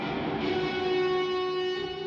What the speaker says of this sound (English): So I'm just going to turn the delay off so I can hear what this reverb's doing and whack it up